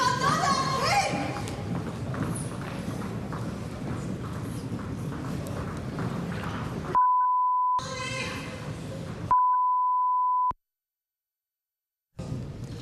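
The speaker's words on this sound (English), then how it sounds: "There was quite a lot of rude words, which of course we had to beep out there" Censor beeps cover rude words shouted by a protester; two steady tones of about a second each cut in after a stretch of raised voices, with a brief dead-silent gap before talk resumes.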